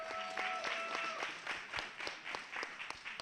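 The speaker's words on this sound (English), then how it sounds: "Clap it up, clap it up." Audience clapping at a March Madness 2021 event, a scattered, fairly quiet patter of hands with distinct individual claps and a faint tonal sound near the start.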